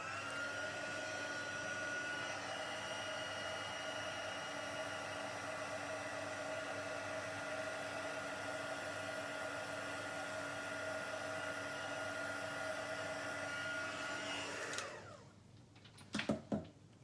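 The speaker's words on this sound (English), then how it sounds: "So while our heat tool's hot, I'm just going to quickly heat that one as well." An electric heat tool blows steadily and loudly while heating a card during card making, a continuous whirring hiss that holds for about fifteen seconds before cutting off, followed by a few faint clatters.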